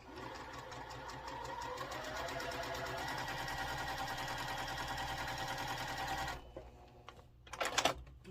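A sewing machine stitches quilt block pieces in a steady, fast mechanical hum that runs close and even for about six seconds, then stops, followed by a few quiet handling clicks.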